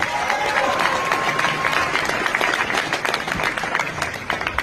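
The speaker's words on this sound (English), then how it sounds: "give yourselves a nice round of applause" Audience applause fills the space, dense clapping and some cheering that carries on steadily for several seconds before easing slightly.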